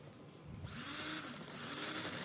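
A sewing machine stitching a shalwar, a soft steady mechanical whir that starts just after a half-second pause and runs continuously, fairly faint and close.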